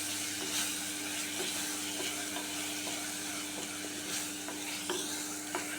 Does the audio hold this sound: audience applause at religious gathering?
no